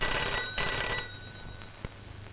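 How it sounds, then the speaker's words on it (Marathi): A telephone bell rings indoors in two short bursts, fairly close, then fades to a quiet room with a faint knock near the end; no one speaks. "थांबा कुणाचा फोन आहे तो बघते."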